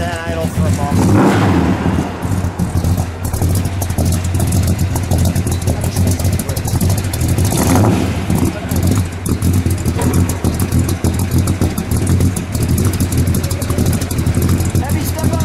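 A 1970 Plymouth Road Runner Superbird's 440 V8 idles with a deep, loping rumble and a few throttle blips, loud and close, while people talk over it.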